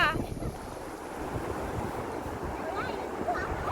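Sea waves wash in at high tide on a beach at Bakkhali, a steady broadband rush of surf with wind buffeting the microphone, continuous and fairly close for the whole stretch.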